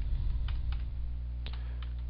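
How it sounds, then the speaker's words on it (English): Typing on a computer keyboard while entering an Exchange proxy server address during an Outlook setup, a run of light, uneven key clicks with a few sharper taps over a steady low hum. "Here you need to type"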